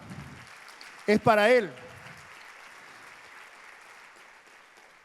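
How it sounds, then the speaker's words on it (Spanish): A church congregation at a women's gathering in El Salvador applauds faintly in the background, a soft steady patter under a brief shouted voice, then thins to a low hiss. "Aplauda"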